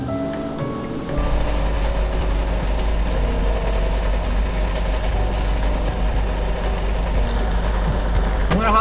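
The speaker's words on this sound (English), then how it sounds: "So the car started." Heavy, steady engine idle from a barely functioning car that has just started, a loud constant low rumble filling the whole stretch after a quieter opening second.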